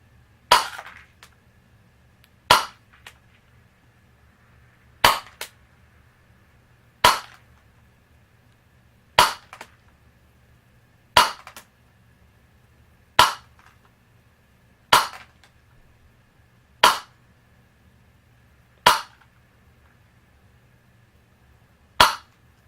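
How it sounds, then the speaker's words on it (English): Ten sharp airsoft gun shots fired one by one at an even pace about two seconds apart, each a crisp snapping crack, close and loud against a quiet background, testing a hop-up bucking sealed with silicone. "I'll do 10 shots and see what the FPS range is."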